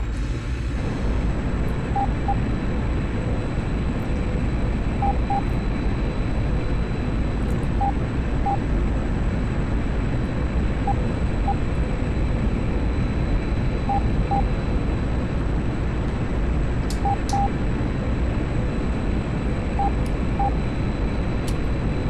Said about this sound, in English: and then into burner.